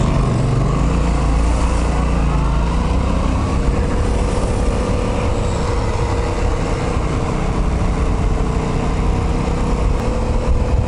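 A Yamaha FZ-07 motorcycle with stock exhaust runs in second gear through traffic at high revs, a steady, close engine drone with wind rush, shifting pitch slightly over the ride.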